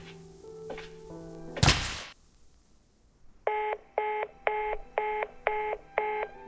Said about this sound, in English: Looks like the phone got disconnected.